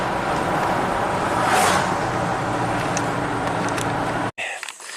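A rare, formerly abandoned Audi turbo car on a test drive, with a steady, close road-and-engine drone that holds level before cutting off abruptly near the end.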